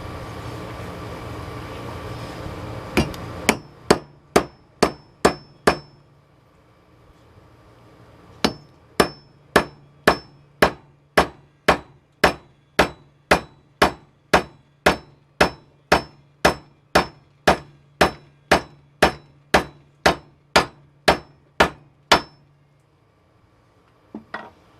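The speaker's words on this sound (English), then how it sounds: "not to talk while I'm hammering" Sharp metallic hammer blows ring out one after another in a steady rhythm, close and loud, with short pauses between bursts of strikes, during a hatchet hammer restoration.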